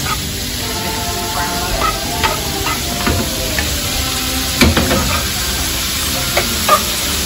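Garlic shrimp frying in a pan, a continuous bright sizzle with occasional stirring clatter and sputtering pops, close up and with no talking.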